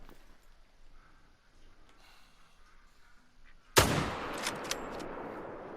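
A single sharp rifle crack from a hunting video game shot at a red deer stag bursts out after a stretch of quiet outdoor ambience, followed by a loud decaying rumble with a few smaller echoes.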